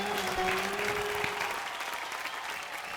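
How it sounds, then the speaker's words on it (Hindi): Studio audience applause at a Hindi television game show, a dense burst of clapping that starts loud and gradually thins out, with a brief sustained musical tone underneath at the start. "आप ताली बजाइए इन लोगों के लिए"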